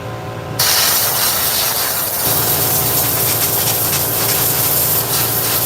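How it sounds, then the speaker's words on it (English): Air compressor running during shop maintenance, a loud steady hiss and rush that kicks on abruptly after a brief quieter start and holds constant, close by with no talk over it. "So there went the compressor."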